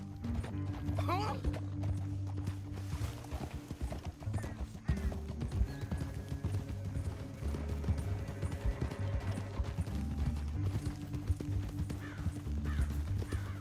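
Horse hooves clip-clop steadily through the Red Dead Redemption 2 game world, a loud rhythmic trot that runs the whole stretch over low engine-like music, with a whinny early on.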